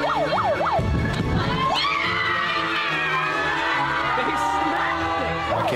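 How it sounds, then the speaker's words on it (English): A loud wailing siren with rapid rising whoops rings out at the start and returns briefly later, over a noisy background of crowd and voices. "Is that a siren? That's really annoying, even out here."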